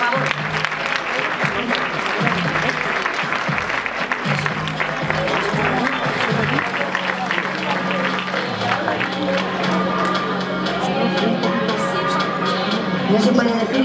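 Audience applause for the winner of an art prize at an inter-association women's council event, with a painting titled Manuela Carmena taking the honour. Dense, sustained clapping fills the whole stretch, mixed with crowd murmur and some voices.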